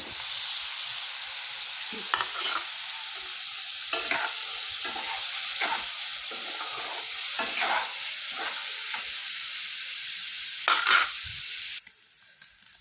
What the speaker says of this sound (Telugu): ఇప్పుడు పన్నీర్ ముక్కలు ఫ్రై చేసుకుందాం.